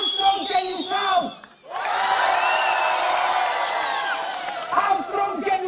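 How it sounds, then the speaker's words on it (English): A circus audience at an international circus festival in Cairo erupts into loud, sustained group shouting and whooping for a couple of seconds, with a performer's talk just before and after. "How strong can you shout?"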